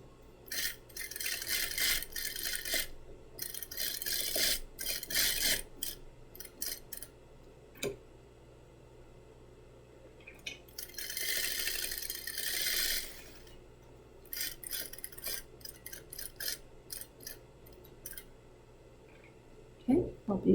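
A sewing machine stitches a men's shirt button placket at a quarter-inch seam allowance, running in short mechanical bursts with brief pauses between, including a back stitch.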